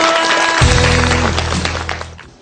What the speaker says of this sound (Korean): 탈락한 숙명여고에게 위로의 박수 부탁드립니다